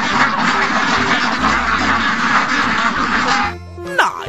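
Duck quacking in the video game Jurassic World Evolution 2, a rapid raspy run of loud, close quacks that stops abruptly near the end, followed by a brief swooping game sound.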